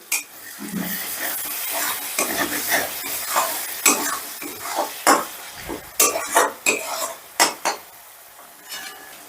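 A spoon stirs spice masala around a pan for paneer do pyaza, giving repeated scraping and clinking strokes over a soft sizzle, close and fairly loud, with no talking.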